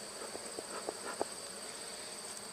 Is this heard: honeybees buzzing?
yes